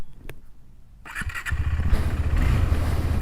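A KTM 390 Adventure single-cylinder motorcycle engine cranks briefly and catches at close range, settling into a steady, loud idle rumble.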